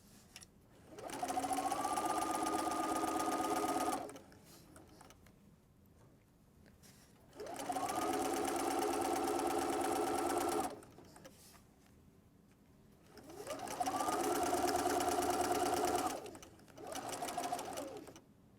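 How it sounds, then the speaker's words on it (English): A sewing machine stitches a soft baby blanket in three steady bursts, each a few seconds long with a rising whir, separated by short pauses while the fabric is adjusted. "put your presser foot down, and sew"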